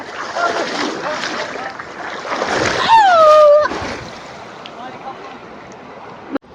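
People bathing and swimming in a river, with continuous splashing and churning water close by, a brief whistle-like tone cutting through midway, voices talking over the watery noise.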